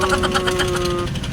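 A Honda Click 125 V3 scooter engine idling with a fast rhythmic ticking and a thin high cricket-like chirp over it, close and continuous, with a voice faintly present.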